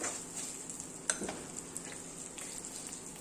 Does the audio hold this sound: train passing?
no